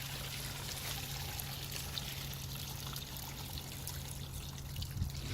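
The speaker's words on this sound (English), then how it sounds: "You see how dirty the water is coming out of there?" Dirty water pours and trickles out of a container of pond sand being rinsed for an outdoor cichlid pond, a steady close splashing flow with a low constant hum beneath and no talk.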